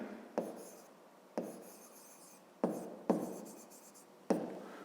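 A pen writing on paper during a Ukrainian fifth-grade maths exercise, with about five short scratchy strokes, each starting with a sharp onset and fading. They sound close and quiet, with no voice.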